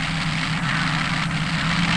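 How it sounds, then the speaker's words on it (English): Top fuel dragsters race in a semifinal at the 1972 NHRA World Finals, a steady, loud engine roar holding unbroken throughout with no voices. "Semifinal, top fuel, Clayton Harris and Jeb Allen."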